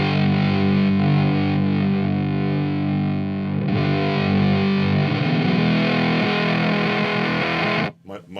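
Electric guitar run through a Teisco Fuzz pedal, a thick, saturated distorted tone with sustained chords ringing continuously and loudly, then cut off abruptly near the end.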